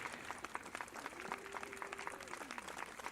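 Hand clapping in a quick, steady rhythm of repeated claps, fairly faint and continuous, with a voice briefly audible alongside.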